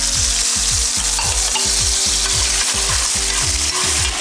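Coconut aminos poured into a hot pan of sausage, setting off a loud, steady sizzle with regular low rhythmic thumps of stirring or scraping throughout, no talking.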